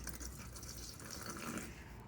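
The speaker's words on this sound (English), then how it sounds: "take about 4 ounces of this and just pour it" RV tank treatment liquid splashes steadily down a sink drain in a continuous, close watery rush that runs unbroken and alone.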